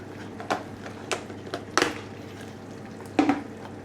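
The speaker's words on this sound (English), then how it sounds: "And then stir them in." A utensil stirs ground coriander and cumin into a pan of homemade bravas sauce, scraping and clinking against the pan in a handful of short, irregular strokes over a low background hum.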